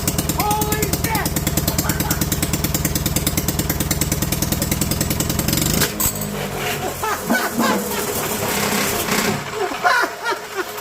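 A Honda GX200 engine fitted with a wooden laser-cut connecting rod runs loudly with a fast, even firing rhythm, then cuts out abruptly midway, leaving clattering, rattling noises and talk.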